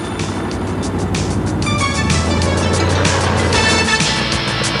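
An off-road motorsport vehicle at a 1992 hill-climb event in Akureyri, Iceland roars loudly and continuously as it claws up a steep track, engine revving under a commentator's voice.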